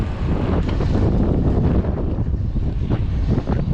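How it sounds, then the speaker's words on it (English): Heavy wind buffeting the microphone during an outdoor ride through town, a loud continuous low roar and rumble with gusty surges and no voices. "And that wind is coming out of the southern direction, which is where I'm about ready to turn into."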